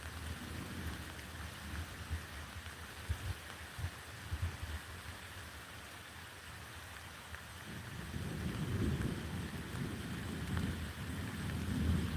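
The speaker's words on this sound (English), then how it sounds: "Under a tree during a thunderstorm is a bad idea, right?" Steady rain pours down during a backyard thunderstorm, a dense hiss of drops with low rumbling that swells louder toward the end, no voices present.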